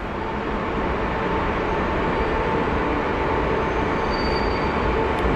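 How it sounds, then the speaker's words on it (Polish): A passenger train for Lubań Śląski rolls into Wrocław Główny station with a loud, steady rumble of wheels on track, close by and continuous, with a faint high squeal creeping in near the end. "obok wjeżdża skład do Lubania Śląskiego"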